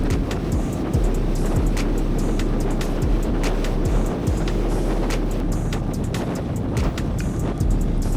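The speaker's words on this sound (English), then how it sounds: "I bumped into a convoy of Singaporean Harley Davidson bikers who happened also to be heading back towards Singapore." A convoy of Harley Davidson motorcycles rides on a Malaysian highway, a loud continuous engine roar mixed with heavy wind rush, passing vehicles swelling and fading as the bikes cruise together.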